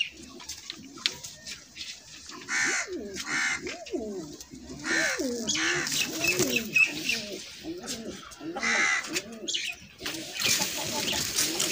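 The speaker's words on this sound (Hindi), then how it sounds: "बड़ी हड्डी का है ये कबूतर।" Teddy pigeons coo close by in a run of soft, repeated throaty calls, with faint rustling and a little quiet talk in the background.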